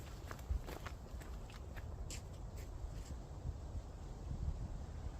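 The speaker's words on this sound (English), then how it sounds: "I just heard footsteps." Footsteps at a supposedly haunted old hall near a graveyard, a faint, irregular series of soft steps heard at a distance through steady background hiss.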